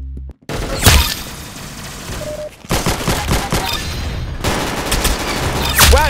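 Rapid gunfire in the video game Arsenal, bursts of automatic shots and loud cracks in quick volleys separated by brief pauses, with a sharp whooshing effect near the end.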